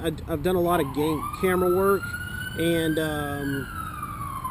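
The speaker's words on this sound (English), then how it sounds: "apologize for the sirens around me" Police and fire vehicle sirens wail in rising and falling sweeps, close and loud, with several overlapping tones heard near a police and fire station while someone talks over them.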